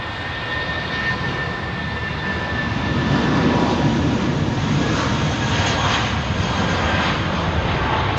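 A jet airliner departs on runway 27R at London Heathrow, its engines roaring as a steady, broad, loud wash that swells slightly midway and holds through to the end, with no voices over it.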